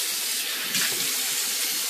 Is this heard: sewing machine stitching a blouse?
no